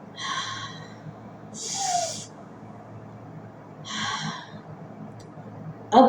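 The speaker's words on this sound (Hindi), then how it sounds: "गहरी साँस लें।" Slow, deep breaths during a guided body-scan meditation, three long airy exhalations spaced a couple of seconds apart, close and breathy against a quiet background.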